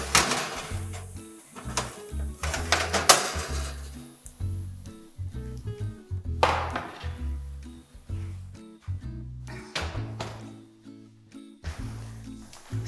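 A baking tray comes out of a kitchen oven with metallic scrapes, clunks and rattles, a door opening and shutting, and scattered clatter in irregular bursts, close and fairly clear with no talking over it.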